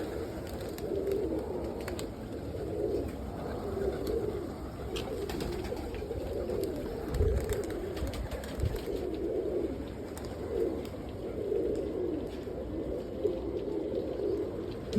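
Young roller pigeons coo steadily in a loft, soft overlapping throaty calls in a continuous murmur with occasional wing flutters, close and moderately loud.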